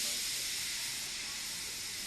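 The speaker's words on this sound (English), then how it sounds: "He just let off steam feebly." A steam engine lets off steam in a continuous, loud hiss that holds steady and tapers slightly, with no other sounds.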